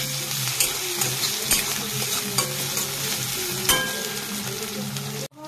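Tomato goes into a frying pan with ginger for a rohu fish curry with eggplant, giving a loud continuous close sizzle broken by scattered stirring clicks and scrapes before cutting off abruptly at the end.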